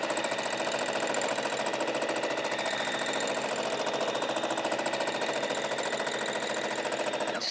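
A sewing machine stitches in free-motion mode with a fast, even needle pulse that repeats without a break. The clatter is loud and close, with no talk.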